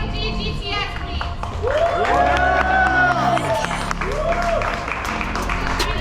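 A crowd at a Miami charity car meet cheers, whoops and claps for a Mercedes-AMG GT S, a loud swelling burst of voices and applause that fades and then rises again briefly.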